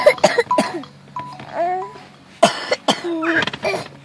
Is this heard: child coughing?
yes